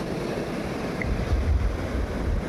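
Ocean waves wash against a Central Visayas shore ahead of a typhoon, a steady heavy rumbling surge with wind buffeting the microphone and no voices.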